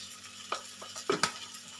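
A spoon scrapes and knocks in a cooking pan as coriander powder, salt and turmeric are mixed through sizzling oil, with several distinct clinks and scrapes over a soft fry.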